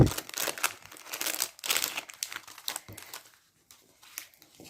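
Close crinkling and crackling as a cardboard Christmas candy box and its packaging are opened, in quick bursts that thin out toward the end.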